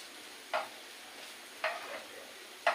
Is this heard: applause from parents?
no